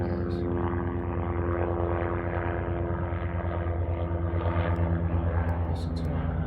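A Secret Service helicopter flies directly over a house, producing a loud, steady low rotor drone with a constant engine hum that persists throughout without pause.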